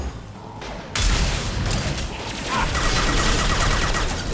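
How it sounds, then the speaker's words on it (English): An Inferno grenade in Mass Effect 2 bursts with a sudden blast near the one-second mark, followed by a sustained roar of crackling flames and combat noise that keeps building in intensity. "Hey Zaid, do you want to use that new Inferno grenade you just got?"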